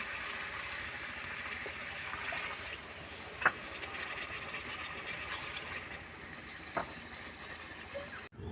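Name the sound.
pouring water into fried mutton for curry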